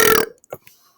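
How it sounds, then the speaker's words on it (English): A single loud, close burp from a man, a short throaty belch lasting about a quarter second, followed by a couple of faint smaller sounds and near silence. "or else I will burp in your face"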